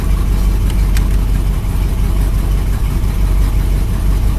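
A small old gas engine, running cold, idles steadily with a low, rough, continuous rumble, close by and fairly loud, with no revving or surging.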